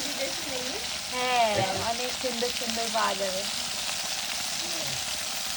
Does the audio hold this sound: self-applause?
no